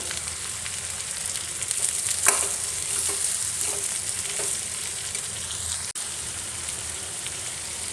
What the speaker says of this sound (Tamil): கடுகு பொரிஞ்சனையும் வெங்காயம் போட்டுக்கலாம்